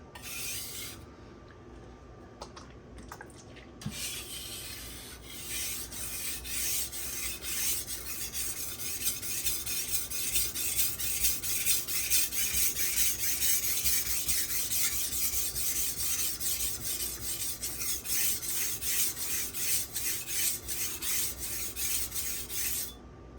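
Continuous rhythmic scraping of a blade drawn back and forth across a whetstone, a gritty rasp repeating steadily and close by for the whole stretch.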